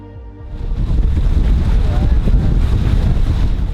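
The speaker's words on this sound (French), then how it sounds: "C'est hyper dur en fait quand il y a énormément de vent" Strong wind batters a microphone aboard a sailboat, a loud, constant buffeting roar that rises sharply after a brief quiet start and stays heavy to the end.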